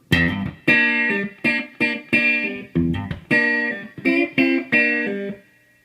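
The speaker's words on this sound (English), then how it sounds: "And you can hear the reverb. Hear that, that reverb." An electric guitar plays a series of chords through a Fender Blues Deville amplifier, about nine strums in a loose rhythm, with the last chord ringing out into reverb.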